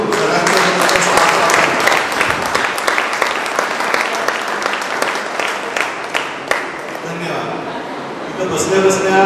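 A hall audience at a school felicitation ceremony honouring meritorious students claps loudly and continuously, dense applause with scattered laughter, tapering slightly near the end.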